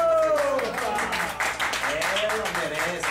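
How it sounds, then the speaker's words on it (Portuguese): An audience at a community theater group's show applauds, with dense, continuous clapping mixed with voices and cheering, loud and close throughout. "Palmas."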